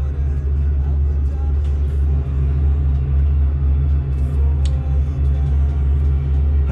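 A truck in Euro Truck Simulator 2 rumbles steadily over a bumpy road in a 50 zone, a heavy, constant low engine drone with faint knocks, close and loud, without voices.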